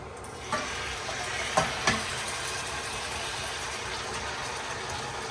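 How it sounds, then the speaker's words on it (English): Lamb meat fries in oil in a pan over a low to medium flame, a continuous hissing sizzle broken by a few brief clatters of stirring, with no voices. "Got it on a low to medium flame, so we're going to fry the lamb."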